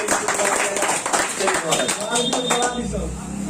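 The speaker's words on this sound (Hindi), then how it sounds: "तो जोरदार ताली से इनका महाराष्ट्र।" Loud, dense clapping from a group welcoming a candidate selected for Army recruitment, with speech running over it and continuing throughout.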